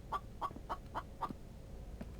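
A chicken clucking in the video game The Infected: five evenly spaced, fairly loud clucks over about a second and a half, then a quieter stretch of low background noise, with no voices.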